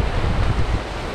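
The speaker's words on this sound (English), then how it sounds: "I'd hope to get quite a lot of the sea down here splashing around" Sea waves splash and wash along the shore on a wet, overcast morning, a close, rumbling surge with gusty wind buffeting the microphone.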